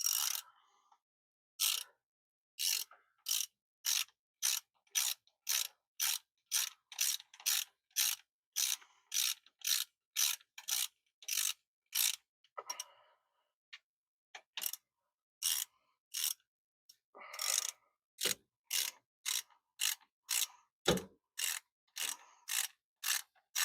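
Ratchet wrench clicking steadily as bolts come loose on a 1954 Chevy Bel Air engine during rocker arm work, rapid regular bursts of sharp ratcheting strokes close up, with short pauses between runs.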